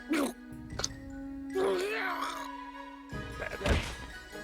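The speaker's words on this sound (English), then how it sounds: "Decompompo's body produces an uncomfortably heavy thud as it impacts the ground." A heavy, uncomfortable thud as Decompompo's body hits the ground in Utawarerumono: Mask of Truth, a few dull low impacts scattered among game effects and a brief voice-like sound.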